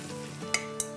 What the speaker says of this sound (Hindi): 1 टेबलस्पून के आसपास ऑयल डालते हैं और अब हम ये अपना मसाला डाल देंगे जो हमारा पड़ा हुआ था मैरिनेशन का।